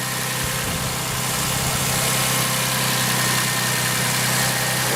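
Toyota Sienna minivan engine idling during a catalytic converter check, a steady close low hum and rumble holding constant and loud throughout with no speech.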